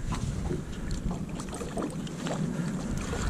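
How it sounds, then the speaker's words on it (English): Steady wind buffets the open air around a small fishing boat out on the water for crappie, a continuous rushing noise with low microphone rumble and faint water lapping, no talking. "The wind is aggravating me so much that I can't think."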